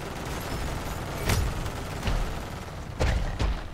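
An automated turret firing in Modern Warfare Zombies, a handful of sharp booming shots spaced irregularly across a constant noisy background of combat, each one a short loud punch.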